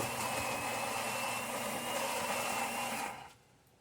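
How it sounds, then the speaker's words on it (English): Inside a Saeco Pico Baristo espresso machine, the grinder mills coffee beans with a steady, close mechanical whir that cuts off near the end. "Machine is definitely grinding."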